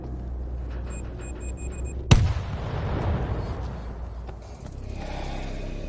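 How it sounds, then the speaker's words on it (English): A C4 charge blowing open locked compound gates in the game World War Z: a single sharp, loud blast followed by a rumbling decay and scattered debris, over a background of low game ambience and faint beeps. "A little C4 would crack that open."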